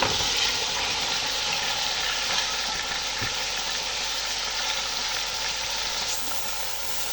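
Chicken and cauliflower florets frying in spiced oil in a pan, a steady broad sizzle and hiss running continuously at close range with no talk.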